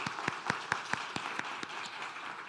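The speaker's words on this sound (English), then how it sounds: "A little round of applause for our bouquet." A congregation at a Sunday church service gives a short round of applause for a bouquet, with a steady wash of clapping and a few sharper individual claps standing out at a fairly regular rhythm.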